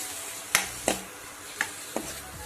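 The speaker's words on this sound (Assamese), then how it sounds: "এতিয়া অলপ মছলাখিনি ভাজিম।" Ground spices such as coriander and turmeric frying in a pan under a steady soft sizzle, with four sharp, evenly spaced clicks of a spoon striking the pan, close by and fairly quiet.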